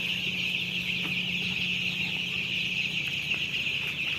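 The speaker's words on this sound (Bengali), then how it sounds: "আজকে আমাদের মুরগির বয়স 12 দিন।" Dense chorus of 12-day-old colour broiler chicks on a poultry farm, thousands of birds peeping in a constant high-pitched din, steady and unbroken over a low mechanical hum.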